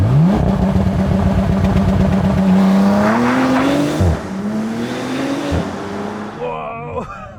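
A Bentley GT engine roars loudly, climbing in pitch through a launch-control start, holding a high rev, then dropping as gears shift, with the car accelerating hard and close.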